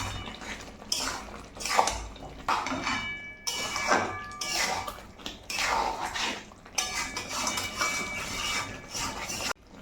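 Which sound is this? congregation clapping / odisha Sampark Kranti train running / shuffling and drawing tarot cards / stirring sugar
stirring sugar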